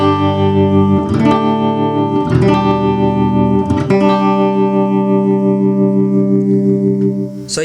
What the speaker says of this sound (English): The last thing in the pedal board chain is my tremolo.